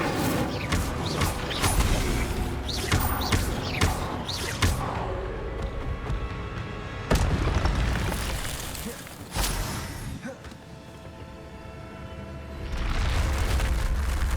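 Incendio fire spell cast in the Hogwarts Legacy video game, a dense roaring burst of game effects with creaks and booming impacts that swell and fade over several seconds, loud and continuous, with a voice calling out.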